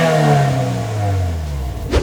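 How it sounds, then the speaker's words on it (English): A Subaru WRX tS engine revs briefly through its exhaust. The pitch drops steadily as the revs fall off, with a loud, close rumble and a short blip at the end. "Let's give it a little bit of a rev so you can hear what the exhaust sounds like."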